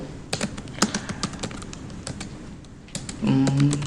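Typing JavaScript code on a computer keyboard: a run of crisp, close keystroke clicks in uneven bursts with a short pause, then a voice begins speaking near the end.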